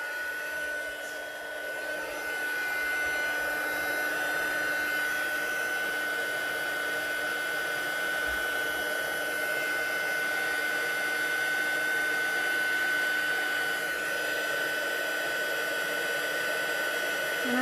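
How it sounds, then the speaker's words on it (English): A heat gun runs steadily throughout for card-making work, giving an even, continuous blowing whine with a faint high tone and no pauses. "let's get the heat gun up to speed."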